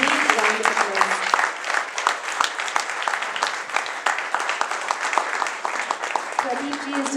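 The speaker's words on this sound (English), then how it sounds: "Please give a big round of applause." A concert audience at an Indian music event applauds, sharp individual claps forming a steady moderate ovation, with a voice talking briefly at the start and again near the end.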